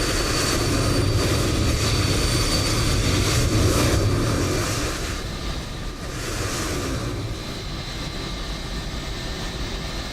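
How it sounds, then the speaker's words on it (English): A Boeing 747 jet departing at Edinburgh airport in Microsoft Flight Simulator 2020 gives a loud, continuous engine roar that eases slightly midway and then holds steady, with no voices. "There's your 747"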